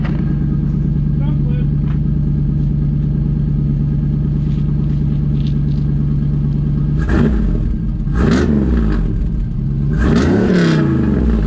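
Engine of a 1987 IROC-Z third-generation Camaro with a freshly repaired exhaust, a steady loud idle rumble that breaks into several sharp revs near the end, with talk over it.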